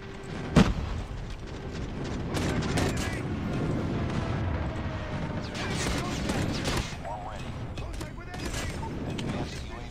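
Dense, rapid gunfire from the Call of Duty video game rattles almost nonstop with sharp bursts and a loud opening shot, while voices talk over the shooting.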